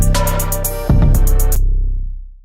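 Rap beat loop made on Android, with the fourth beat sliced and its first half copied, giving punchy bass hits and quick repeated hi-hat stutters that end and fade into a decaying tail.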